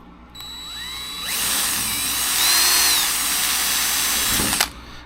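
A power drill whines loudly and steadily as it bores into an aluminum wing spar of a Zenith 750 Cruzer aircraft, its pitch wavering slightly, ending with a brief clunk as it stops.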